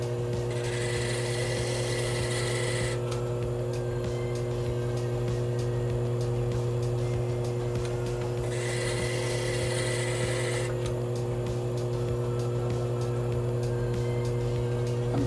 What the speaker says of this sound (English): Cutting the corner facets, and I'm using the 600 lap.